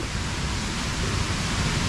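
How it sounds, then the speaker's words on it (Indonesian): Steady broadband rush of a waterfall and mountain river beside a trail on Mount Guntur near Garut, West Java, continuous and close with no voices. "Dan suara air terjunnya, sungainya."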